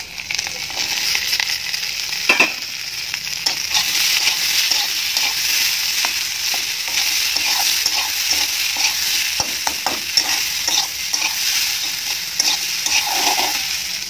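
Peas and potatoes fry in a pan, a loud, steady sizzle broken by frequent scraping and clinking as the mixture is stirred.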